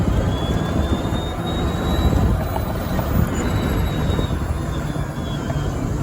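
A custom titanium gray GEM E-4 electric limo cart accelerates gradually, giving a steady whirring hum with a faint rising whine under broadband wind and road noise, no talking.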